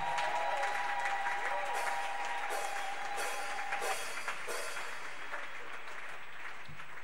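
A church congregation claps and cheers in worship for the King of kings, a steady wash of many hands with voices and a sustained tone over it, moderately loud and continuous throughout.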